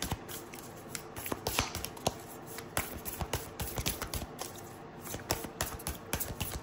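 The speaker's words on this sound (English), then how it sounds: "This isn't the easiest one to shuffle." A deck of cards being shuffled, with rapid irregular riffling and crisp clicking snaps in uneven bursts, close and fairly quiet, with no voices.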